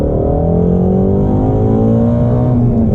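A 2020 Shelby GT350 engine roars steadily under hard acceleration, its pitch sweeping upward, loud and close throughout.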